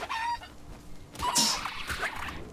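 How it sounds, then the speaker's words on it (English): A chicken-like creature in the Palworld video game gives a couple of loud, squawking clucks and honks, close and bright, over soft game ambience. "Look, he's stuck, that little chicken."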